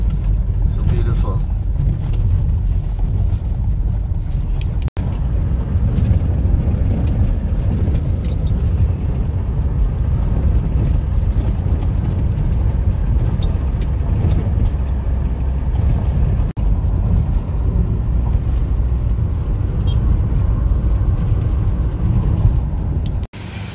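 Car driving along a highway from Manila to Bicol in the Philippines, a steady loud road and engine rumble running throughout with tire noise and speech layered over it.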